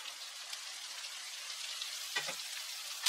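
Carrots, beans, drumstick pieces and brinjal tumbling into a hot pot for sambar rice, setting off a steady frying sizzle with a brief clatter of vegetables dropping in and a sharper burst right at the end.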